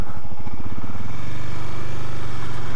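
A Suzuki DRZ400 supermoto motorcycle is ridden up close. Its single-cylinder engine throbs loudly and steadily, and the pulsing beat shifts as the revs change. No one speaks.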